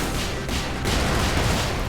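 Explosion of an artillery turret in the Brigador game: a loud, dense roar of blasts and rumbling fills the whole stretch, with fresh bursts around the half-second and near one second, all close and sustained.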